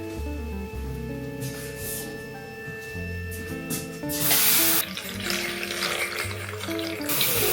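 Tap water runs in a steady hiss beneath louder background music, swelling into a stronger gush for a moment partway through.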